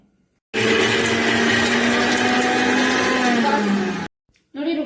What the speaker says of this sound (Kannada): ಇದನ್ನ ರುಬ್ಬೇಕಾ ಹಾ ರುಬ್ಬೇಕೀಗ ಈಗ ರುಬ್ಕೊಂಡ್ ಬರ್ತೀನಿ ಫುಲ್ ನುಣ್ಣಗ್ ನುಗ್ಬೇಕಾ ನುಣ್ಣಗ್ ರುಬ್ಬೇಕು